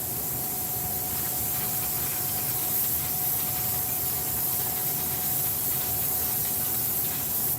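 An airbrush sprays light coats of paint in a garage, producing a soft, continuous airy hiss that holds steady for several seconds with no voices.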